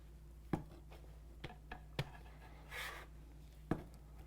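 Soda bread dough worked with a scraper: a handful of soft, quiet taps and scrapes spaced irregularly on a work surface, close and faint, with no talk.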